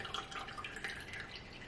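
Water draining off canned salmon into a sink, a faint close trickle with light dripping.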